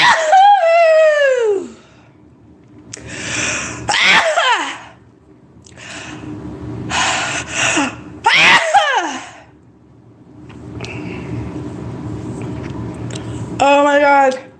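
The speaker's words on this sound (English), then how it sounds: "But now I have to sneeze." A person's sneeze bursts out among squealing, laughing vocal sounds, with several sharp outbursts separated by quieter stretches of room noise.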